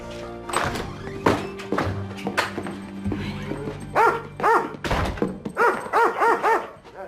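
A dog barks in a run of loud, close woofs that come in rapid clusters, starting with scattered thumps and rising into repeated barks near the end. The setting is a house at Christmastime, with a wary dog that dislikes strangers.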